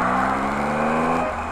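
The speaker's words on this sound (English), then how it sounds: "Engine sound is a little bit deeper, it's got a deeper tone" A 2018 Triumph Tiger motorcycle engine pulls hard under acceleration with a deep, steady drone, close and loud, its pitch shifting slightly near the end as the rider eases off.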